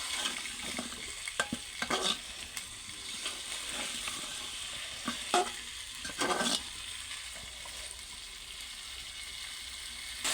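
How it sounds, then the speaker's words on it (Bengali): Spice masala fries in a pan with a steady low sizzle, broken by repeated scraping bursts of stirring. "আর এখন আমি মশলাটাকে কষিয়ে নেব ভালোভাবে।"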